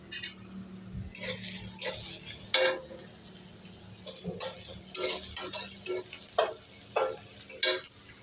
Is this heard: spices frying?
yes